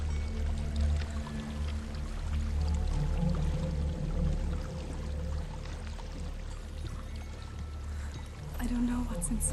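A waterfall in the video game Hellblade: Senua's Sacrifice pours in a steady low rushing roar that continues throughout at moderate distance, with voices speaking over it.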